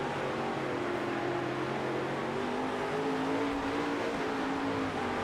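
Dirt sprint car engines from World of Outlaws: Dirt Racing drone steadily through a final lap, a dense layered roar with rising and falling harmonic tones from several cars at once, continuous and fairly loud with no voices.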